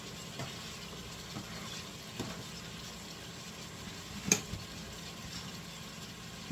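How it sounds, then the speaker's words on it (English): Celery and carrots sauté in a soup pot, giving a faint, steady sizzle with soft stirring scrapes and one brief clink near the end. "Just going to bring this, saute these vegetables."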